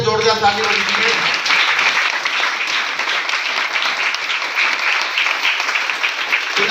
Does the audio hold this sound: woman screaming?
no